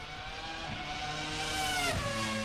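A 1990s Ferrari V10 racing car at the Goodwood Festival of Speed howls past, its engine note climbing in pitch and peaking near the end before dropping sharply in a close pass-by.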